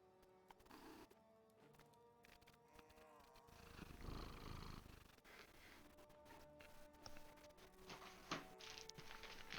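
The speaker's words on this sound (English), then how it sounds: "I'm not sure if you can hear the pet purring." A pet purrs softly in the video game Torchlight Frontiers, a faint continuous rumble under quiet game sounds and occasional thuds.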